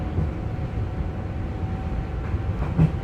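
Inside a train in Denmark, a steady low rumble of the moving carriage continues throughout, with a faint tonal hum and a brief knock near the end.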